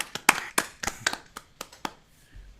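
Scattered applause from a small virtual open mic audience: about ten sharp, uneven claps close to the mic, tapering off after two seconds into quiet.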